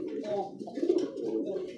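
Pigeons at a pigeon sale giving soft, low, continuous cooing close by, with a faint voice in the background.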